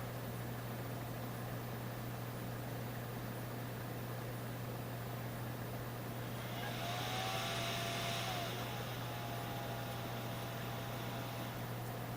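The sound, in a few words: graphics card fan revving up at power-on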